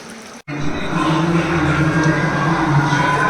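Chicken pieces fry in hot oil for restaurant-style chicken manchurian, a steady dense sizzle that starts abruptly after a brief gap and continues loud and even, with no talk over it.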